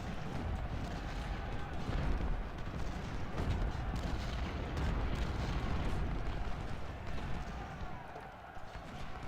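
Cannon fire from Civil War artillery in the video game Ultimate General: Civil War makes a dense, continuous wash of booms and rumbling blasts at a fairly faint level, with no clear pauses.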